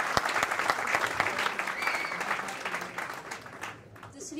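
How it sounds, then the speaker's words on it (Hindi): An audience at a Hindi film trailer and music launch applauds as a guest takes the stage, a steady crackle of many hands with scattered sharper claps, fairly distant and fading toward the end, with some voices underneath. "ताली थोड़ी जोरदार हो जाए प्लीज।"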